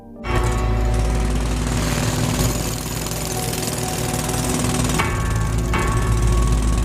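A jackhammer pounds into concrete in a continuous, loud, close rattling burst that runs through the whole stretch, with a few sharper knocks partway through.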